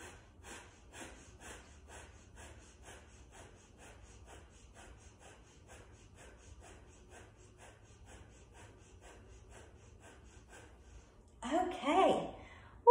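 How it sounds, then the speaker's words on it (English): Rapid, rhythmic nasal breaths of fire during a Kundalini yoga practice, a quick steady pumping of short exhalations that thins out, followed near the end by a louder burst of heavy panting or gasping. "breath of fire"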